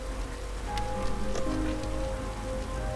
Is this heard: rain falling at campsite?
yes